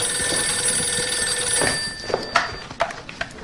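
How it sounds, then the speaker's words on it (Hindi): A telephone rings with a steady electronic trill that cuts off partway through, followed by a few sharp knocks and clatters nearby. "फोन की आवाज नहीं आ रही है क्या? तुम खुद नहीं उठा सकती फोन?"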